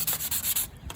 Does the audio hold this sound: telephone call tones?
no